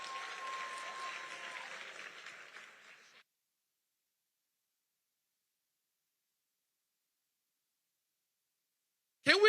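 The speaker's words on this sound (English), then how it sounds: "Can we give Susan a big round of applause and thank you for your generosity?" Audience applause at a sold-out fundraising evening event fills the first three seconds as a steady, full-room clapping, then cuts to silence before a brief loud burst at the very end.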